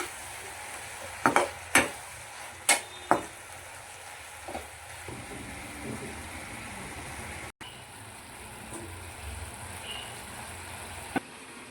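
Prawns frying in ghee for a Mangalorean ghee roast, a steady soft sizzle running throughout with several sharp clinks of a utensil against the pan early on, no voices.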